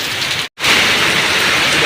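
Heavy rain pours down at a polytechnic college, a dense, loud, steady hiss of downpour that cuts out for a split second before resuming just as strongly.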